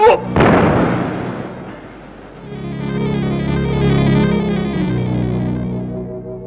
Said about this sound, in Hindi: दागो बंदूक